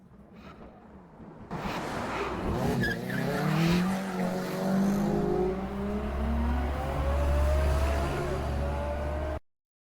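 Several cars sweep past in a rainy GTA 6 street scene, engines rising and tires hissing on wet pavement, loud and close after a quieter opening, with heavy rain roar underneath and a deep rumble swelling toward the end.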